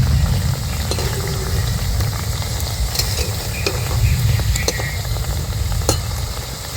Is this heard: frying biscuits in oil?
yes